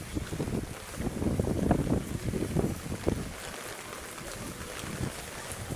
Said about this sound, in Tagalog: Ay, grabe, lakas ng hangin